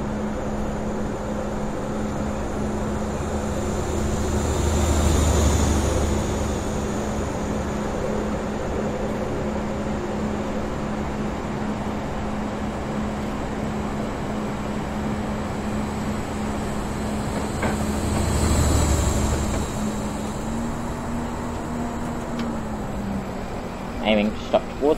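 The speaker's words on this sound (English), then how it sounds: "We have a Class 43 departing here." A Class 43 high-speed diesel train in Train Simulator 2018 pulls away with a steady low engine drone that swells twice, and its tone rises slightly near the end over constant background rumble.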